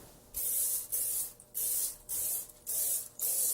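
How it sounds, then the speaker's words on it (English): Pam cooking spray is sprayed inside a springform pan in five rhythmic hissing bursts, each about half a second long, close and clear with short pauses between them. "I'll just take some Pam and spray the entire inside and bottom of the springform pan just to make sure nothing sticks to it"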